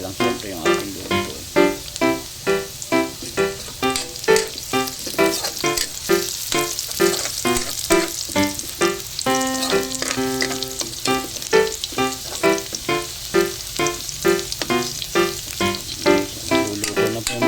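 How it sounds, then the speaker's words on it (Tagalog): Garlic frying in a pan for kilawin, a steady close sizzle with light stirring and scraping that fades in and out in soft pulses. "Hintayin po natin maging golden brown yung bawang bago natin"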